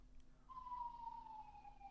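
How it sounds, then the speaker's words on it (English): A city emergency siren wails once in a long, slowly falling tone, fairly distant and faint, over a low background hum with no talking. "Now there's sirens."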